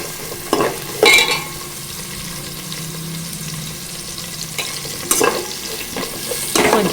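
Onion pieces frying for a curry with spatula stirring, a low steady sizzle broken by several scraping bursts against the pan, no voices.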